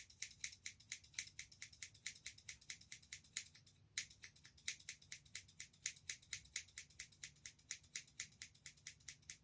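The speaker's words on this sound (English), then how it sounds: "We're going to point our scissors like this." Rapid, steady snipping of scissors close by cutting hair on a mannequin head, crisp metallic clicks repeating in a regular rhythm with a brief pause partway through.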